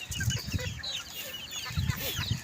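Free-range chickens ranging in a backyard, giving repeated low clucks and soft murmuring calls close by, with faint chirps and rustling in the background.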